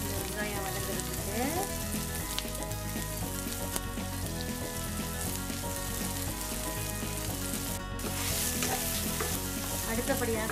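Onions sautéing with a little salt in a pan for a kuppaimeni keerai rasam, a steady close sizzle with occasional stirring scrapes running throughout, layered under a continuous tonal background.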